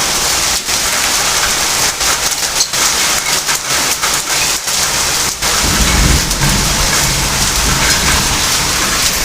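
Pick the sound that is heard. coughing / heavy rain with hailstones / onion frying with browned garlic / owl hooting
heavy rain with hailstones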